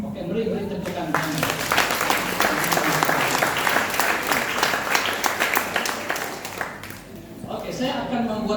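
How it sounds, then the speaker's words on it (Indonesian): A wedding congregation in a church in Sibu claps together in sustained applause of many hands, loud and steady, with a voice speaking briefly at the start and end. "Oke, beri tepuk tangan."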